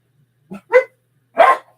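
Dogs barking downstairs in a house: three short, sharp barks in quick succession, fairly close and loud, with near silence between them and no talk.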